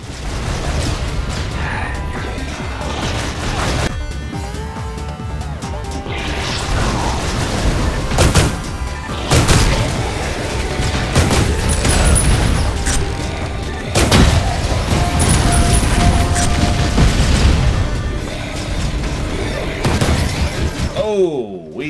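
Gunfire and explosions in the video game Ion Fury, dense crashing blasts and shattering bursts one after another under a loud, busy game soundtrack.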